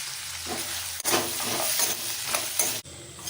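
Onions, tomatoes and cashews sauté in a pan with a close sizzle and clattering stirs, several louder spoon scrapes repeating through the short stretch and no voices.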